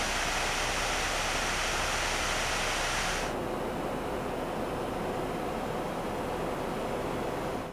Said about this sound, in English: What you just heard was the water cooler's fan and pump running on their balanced mode